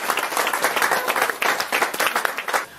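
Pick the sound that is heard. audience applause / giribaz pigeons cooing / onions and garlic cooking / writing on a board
audience applause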